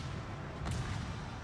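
Warship guns in the World of Warships video game let off a single muffled boom partway through, rising briefly above a low, quiet rumble.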